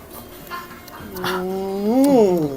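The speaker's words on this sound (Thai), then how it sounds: "เอาหอนปอก่อน" A dog howls close by in a long, loud, drawn-out tone that rises, peaks and falls away, after a few shorter yelps and whines.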